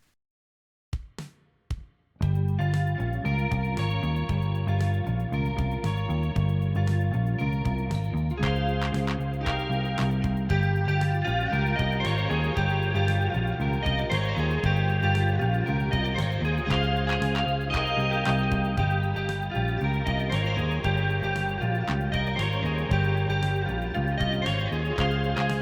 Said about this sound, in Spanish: Acá hay una progresión en sol locrio.